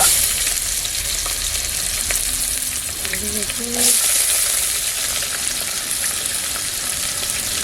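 Onions fry and sizzle steadily in a pan for chicken biryani, a continuous close hiss with a few faint stirring clinks partway through.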